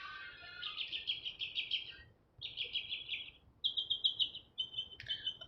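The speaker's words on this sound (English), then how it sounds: "The birds are very active this morning." Birds sing at sunrise in downtown Las Vegas, with repeated high trilling phrases in several bursts separated by short pauses, clear and moderately close above a faint city hum.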